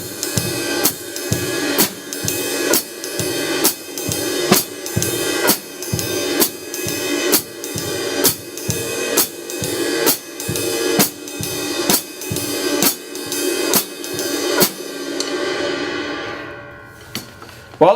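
Drum kit playing a basic rock beat with accented ride cymbal and hi-hat, steady repeated bright hits over kick and snare, played alone and close, ending with a ringing decay.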